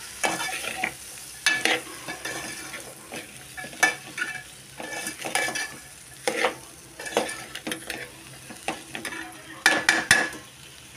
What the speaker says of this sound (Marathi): फ्राय केलेला फ्लावर आणि हे डीप फ्राय केलेले बटाटे तेही आपण एकत्र टाकणार आहोत। चांगलं परतून घ्यायचं